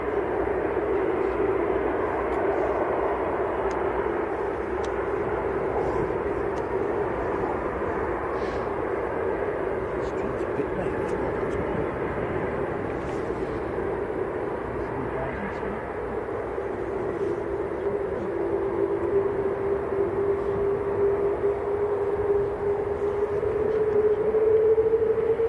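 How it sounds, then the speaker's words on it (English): An Emirates Airbus A380 bound for Dubai starting its takeoff roll at Manchester Airport, a steady, fairly distant jet roar with a slowly rising whine that swells louder toward the end, heard without talk. "Emirates to Dubai, A380 on the roll."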